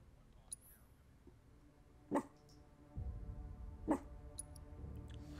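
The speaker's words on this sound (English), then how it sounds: "what is this half-hearted bark?" A dog in the video game Final Fantasy VII Rebirth gives two short, soft barks about two seconds apart, fairly quiet against a low game background with faint chimes.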